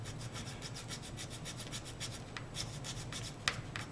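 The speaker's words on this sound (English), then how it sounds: "it just cuts right through the resin" A hand tool cuts resin flashing off a 1/350 scale Ktinga model kit with quick, regular rasping strokes, close and fairly quiet, with a sharper scrape near the end.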